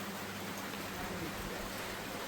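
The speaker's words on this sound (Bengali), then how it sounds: "বৃষ্টি পড়তেছে" Rain falling on a tin roof at night in a rural area: a dense, steady patter and hiss with no gaps, even and moderately quiet, heard alone without talk.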